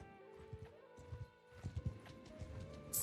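Horse hooves galloping in the Bannerlord video game, a quick run of soft clip-clop thuds with a faint whinny-like tone, over a sustained background music drone.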